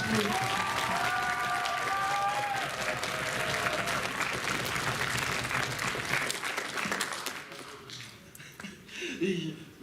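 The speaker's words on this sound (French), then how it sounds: "Réapplaudissez là." Dense, sustained applause fills a convention hall after a cosplay presentation, with a voice heard faintly over the clapping before it thins toward the end.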